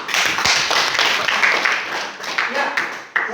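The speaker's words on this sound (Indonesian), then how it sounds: "kita tepuk tangan" A group in a classroom claps briefly, a short burst of brisk, close applause with a few voices underneath.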